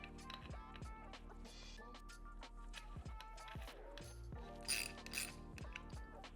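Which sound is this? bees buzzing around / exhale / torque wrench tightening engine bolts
torque wrench tightening engine bolts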